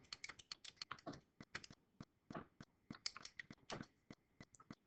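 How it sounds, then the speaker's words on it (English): Numbers are tapped in quickly on a calculator, a soft, rapid patter of irregular clicks and taps, faint and close, with nothing else heard. "I just have to type that in my calculator"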